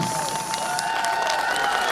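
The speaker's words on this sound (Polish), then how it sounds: "Wielkie brawa, proszę Państwa!" Audience applause and cheering for a Kraków cabaret troupe at a harvest festival, a dense, steady wash of clapping from a large crowd with no voice rising above it.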